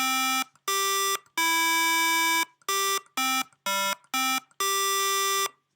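A sequence of synthetic electronic Simon Says button tones generated in Processing, eight steady beeps of varying pitch and length separated by short gaps, clear and loud with no other sound.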